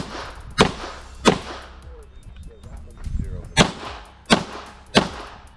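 Six sharp gunshots ring out at a shooting match stage at uneven intervals, each loud crack followed by a ringing decay across the range, with faint background activity between shots.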